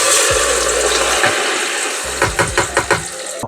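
Crayfish stock poured into a cooking pot for Nigerian aadun, a steady broadband liquid rush for about two seconds, then a short gap and a run of quick gurgling splashes and bubbles close by.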